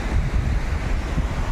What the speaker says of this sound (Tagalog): Malakas lang yung dagat.